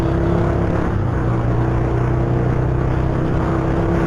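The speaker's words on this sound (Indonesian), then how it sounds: "motornya berisik pak. Pakai knalpot dual sound" A Honda Verza 150 motorcycle with a dual-sound exhaust gives a loud, continuous engine roar with a rough, buzzy exhaust drone, close and steady throughout with no pauses.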